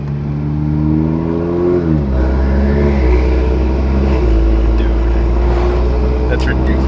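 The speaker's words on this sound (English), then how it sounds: "We're only at like 1500 RPMs right now, bro. And you just hear it just spooling." A turbocharged Toyota Supra fitted with an upgraded turbo revs at low rpm, a loud, close engine drone that rises and then settles into a steady throaty rumble with a faint whistling spool above it.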